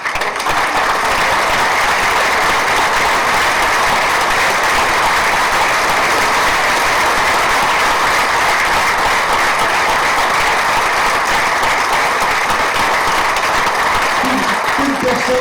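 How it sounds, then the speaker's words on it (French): Sustained audience applause at a theatre troupe event, a dense, loud, continuous clatter of many hands clapping that holds steady for the full length, with a few faint voices beneath it. "aidée quand même par Claudine et Yvette, donc on applaudit aussi"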